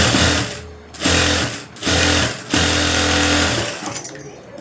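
A sewing machine stitches lace trim onto the back neck of a garment in four loud bursts of steady whirring, separated by short pauses while the fabric is repositioned.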